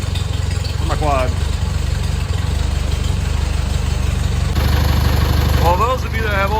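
An old farm tractor engine idles steadily in winter, a loud, constant low rumble with even pulsing that holds throughout, with brief squealing tones rising over it twice.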